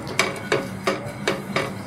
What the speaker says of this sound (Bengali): এখানে তেলটা ব্রাশ করে নিচ্ছি